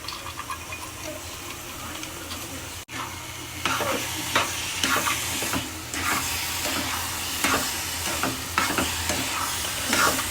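Carrot halwa with ghee is stirred in a pan as fried cashews are mixed in, giving a soft sizzle with repeated close scraping strokes that grow louder after a short break.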